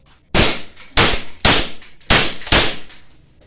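An M1911 airsoft semi-automatic pistol fires five sharp, loud single shots at an uneven pace, each a crisp snapping crack with a short ring, heard alone without talk.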